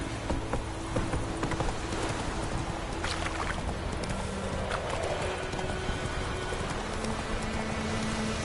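Roach the horse trotting in The Witcher 3, with steady, close clip-clop hoofbeats running throughout over a continuous ambient wash.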